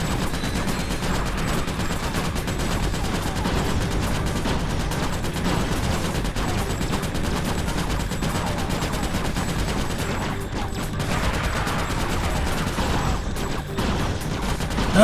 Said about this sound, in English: just gonna keep shooting him until he dies